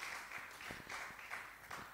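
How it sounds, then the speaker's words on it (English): A church audience at a Friday Bible study clapping their hands, a steady rhythmic patter of many claps repeating in waves over a low background, no talking. "Can you clap your hands once again to the glory of our Lord Jesus Christ?"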